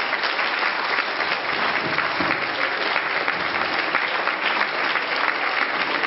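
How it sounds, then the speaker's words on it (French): Audience applauding students at a media awards ceremony, sustained dense clapping at an even level for the full six seconds with no talk. "Et je vous demande de les applaudir,"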